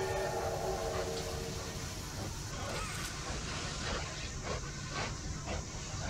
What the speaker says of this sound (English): I can keep blowing the whistle and beacon.